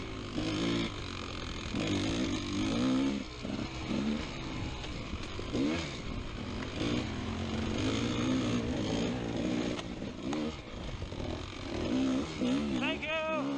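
A GASGAS XC300 dirt bike engine revs and drones steadily throughout, loud and close, with a varying pitch as it accelerates and a voice briefly audible beneath it.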